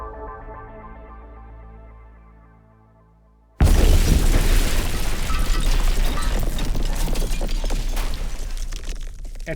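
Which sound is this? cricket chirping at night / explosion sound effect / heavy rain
explosion sound effect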